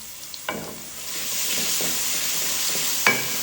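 Garlic paste frying in hot oil in a pan for a tangy-sweet amra pickle, a steady close sizzle with a few sharp spatters and stirring scrapes, no voices.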